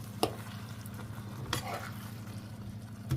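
Cottage pie filling is stirred and turned over in a pan, with a low steady cooking hiss and a couple of sharp scrapes of the spoon against the pan.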